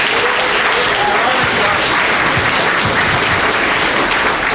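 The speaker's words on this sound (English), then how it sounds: "So give yourselves a big round of applause." Dense applause from a large audience at a charity weekend award presentation, loud and sustained throughout with a faint crowd murmur underneath.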